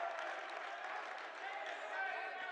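The Patriots home crowd cheers at a student-run boys' high school basketball game, a steady roar of voices and applause that fills the gym.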